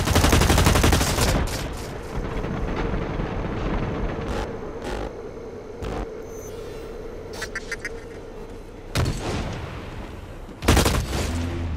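Gunfire in a video game battle with bolt-action rifles, heavy and rapid at first, then sparse sharp single shots and a few later bursts over a steady game background.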